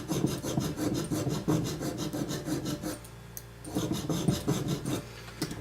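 Steady rasping scrape of a needle file working metal on a gemstone setting, repeated strokes in a continuous rhythm with a brief pause midway, close and fairly loud.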